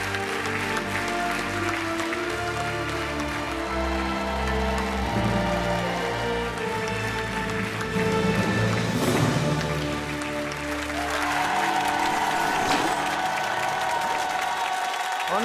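A studio audience at a French television game show applauds in a dense, sustained wash of clapping that swells and dips over several seconds, with voices mixed in.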